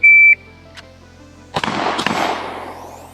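A shot timer's steady electronic beep opens a shooting drill, followed after a pause by two loud gunshots from a handgun fired with gloves, the second close behind the first, each trailing off in a long outdoor echo.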